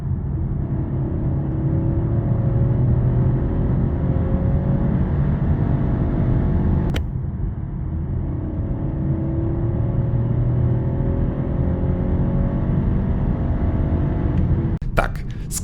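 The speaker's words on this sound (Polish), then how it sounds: "jak już zredukuje, to auto ładnie przyspiesza" BMW 220 Gran Coupe F74 with a 1.5-litre three-cylinder, 170 hp front-wheel-drive engine, accelerating on the road; a steady droning engine hum rises under cabin noise, with a brief click midway.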